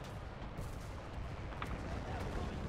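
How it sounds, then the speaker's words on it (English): Mortar fire in a military video game comes through as a dense, continuous low rumble of distant booming blasts that blur together under steady battle noise. "You can give them mortars."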